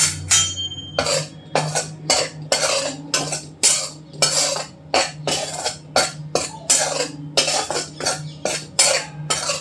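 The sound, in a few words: dry wheat flour being roasted and stirred in a kadhai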